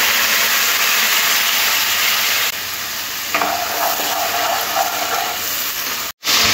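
Onion and tomato paste hits hot oil, setting off a loud, close sizzle with stirring scrapes and a steamy hiss that carries on steadily before cutting out briefly near the end.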